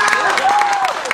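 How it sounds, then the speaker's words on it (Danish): Audience applause with some crowd noise at a LAN party dance-off, brief and fairly loud, with tonal music or voice lines running through it. "så klapper I, som I synes, manden herovre har gjort sig fortjent til"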